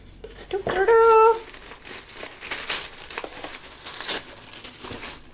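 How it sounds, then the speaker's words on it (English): Scissors cut open a fabric package, and the plastic crinkles and rustles closely. A voice briefly rises into a sung note near the start, and soft handling noise follows. "I am using my scissors to open this"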